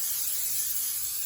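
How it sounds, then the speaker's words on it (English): Canola oil sprayed from a can into a tall cooking pan, a steady close hiss lasting the whole moment with no pauses and no voices. "About to get that thing sprayed up with a little canola oil or a lot of canola oil."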